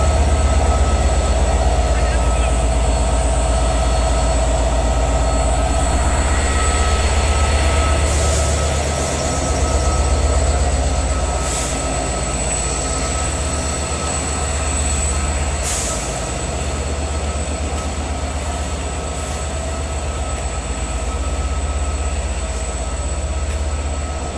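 A loud, continuous rumble of a train engine running, with a deep low drone and occasional high metallic squeals, steady and close.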